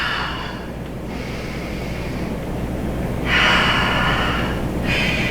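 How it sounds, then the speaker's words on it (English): During a full-body HIIT workout, heavy forceful breaths come out close to the microphone, with a long exhale at the start and two more strong exhales near the end over a low steady background hum. "You can hear me already exhaling out."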